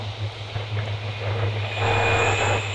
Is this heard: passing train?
yes